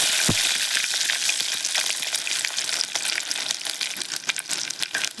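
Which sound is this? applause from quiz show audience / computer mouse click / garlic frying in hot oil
garlic frying in hot oil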